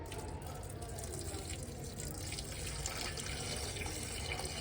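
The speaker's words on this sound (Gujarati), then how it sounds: "આપણે તુલસી માને પાણી ચડાવશું મિત્રો." Water pours steadily from a small pot onto a tulsi plant at home, a continuous close splashing wash for several seconds with no pause.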